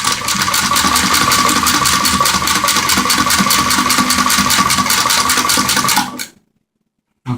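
Singer Spartan 192K sewing machine stitching at steady speed, a loud, close, fast even whir with rapid rhythmic needle clatter for about six seconds, then stopping abruptly into silence.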